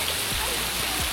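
Heavy downpour at a sea beach near Kolkata, a constant loud hiss of rain with occasional faint voices in the background.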